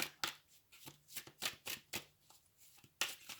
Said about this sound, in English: Again, nice clean shuffle.